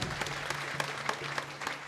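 An audience claps steadily through a short burst after a devotional discourse, as soft but continuous applause heard from the hall.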